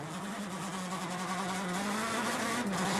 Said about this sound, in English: Engine stuttering after the water splash.